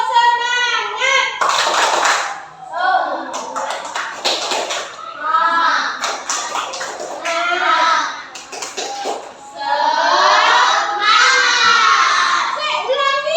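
A classroom of children performs a lively clapping chant, their shouted voices rising in rhythmic phrases punctuated by bursts of claps, loud and close, with brief pauses between repetitions.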